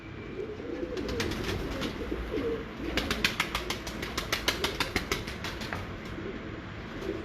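Breeder pigeons on a rooftop in Kasur coo low and continuously under a steady outdoor hum, with a rapid burst of wing flaps clattering in the middle.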